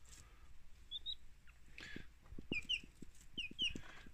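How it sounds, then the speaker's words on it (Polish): A Pavlovskaya hen clucks in a series of short, close, low pulses, mixed with a few higher chirping calls from nearby birds in the coop. "Tu mamy kurę właśnie Pawlowskiego."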